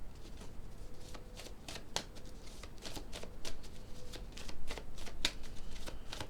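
Cards shuffled for a sentimental tarot-style reading, with steady riffling and sharp snapping flicks repeating throughout, close and moderately quiet.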